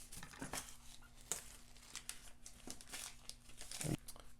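Plastic bags crinkle and rustle while a Motikom MPLUS Bluetooth intercom headset is unboxed, soft irregular crackling close by with occasional sharper crinkles.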